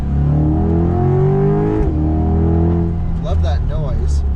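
A Chevrolet C8 Corvette Z51 convertible revs hard on a canyon road, its engine note climbing loud and close before a quick upshift drops the pitch, then it pulls again.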